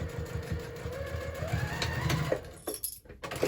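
A sewing machine stitches a seam on a fabric hobo bag, its needle thumping in a fast steady rhythm close by, slowing and stopping near the end.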